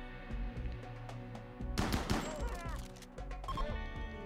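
Gunfire in the video game RimWorld during a caravan ambush. A sharp burst of shots crackles in the middle, with scattered impacts on either side, over a steady game background.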